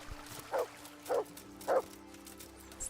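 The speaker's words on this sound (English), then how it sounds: "Stop barking, can you go somewhere?" A dog in a medieval role-playing game barks three times at even intervals, short sharp woofs over a quiet low background hum.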